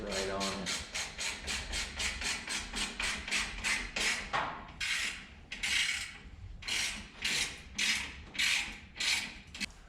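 A ratchet tightening bolts on slip-on exhaust mufflers for a 2007–2017 Harley-Davidson Softail, delivering rapid rhythmic clicking strokes in bursts, close and clear, with a few pauses between runs.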